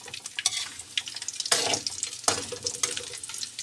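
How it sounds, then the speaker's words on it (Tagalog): Chicken poppers fry in hot oil and get turned over, a crackling sizzle broken by clattering scrapes and stirring bursts, close and busy with no talk. "Balik-balik lang natin lods nang mapantay ang pagkakaprito."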